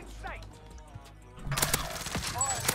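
Gunfire in Warzone: after a stretch of quieter game sound, a rapid burst of close, loud shots and cracks fills the second half, with a voice talking faintly underneath early on.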